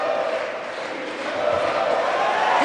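A boxing arena crowd in the last round of a fight applauds and cheers in a broad, steady roar that swells slightly toward the end, with no distinct voices standing out.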